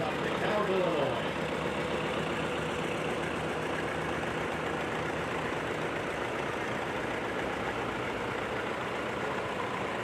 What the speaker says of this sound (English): We've got a 1957 International 450D